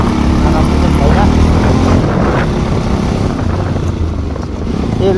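A motorcycle climbing a good uphill road between Dooteria, Balasun and Kurseong, its engine droning loud and steady against wind rush throughout, with someone talking over it.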